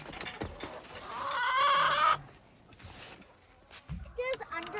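A backyard chicken clucks and squawks in a loud burst up close, followed by a few short clucks, while people nearby talk excitedly during egg collecting.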